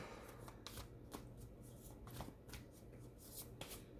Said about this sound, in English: Let's pull some oracle cards and see what we have for you